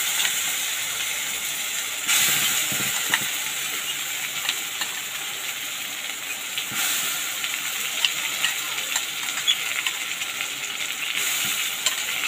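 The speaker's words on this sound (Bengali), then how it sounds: "আমি এর মধ্যে টমেটোর পেস্ট দিয়ে দিচ্ছি" Tomato paste hits fried onions in a pan for a Bombay duck fish curry with bitter gourd, giving a steady, close sizzle with stirring scrapes and a few louder bursts of spitting.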